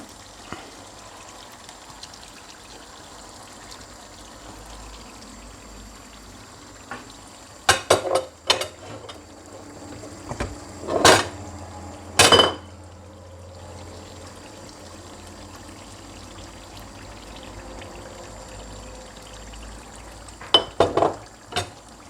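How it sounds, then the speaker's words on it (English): Tomatoes added to a frying pan for shrimp spaghetti: a quiet steady sizzle broken by a few sharp knocks and clatters of utensils against the pan, then a short pouring splash. "it's time for us to add our tomatoes."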